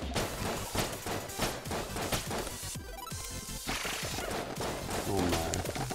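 Rapid bursts of gunfire and impacts from the video game Enter the Gungeon crackle densely and loudly, a near-constant barrage of shots with a brief lull partway through.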